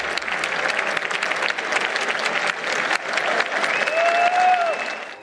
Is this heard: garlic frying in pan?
no